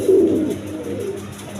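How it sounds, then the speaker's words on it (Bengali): Healthy pigeons offered for sale give a brief, low, throaty coo up close, fading after the first half-second into a soft murmur. "সুস্থ সবল কবুতর"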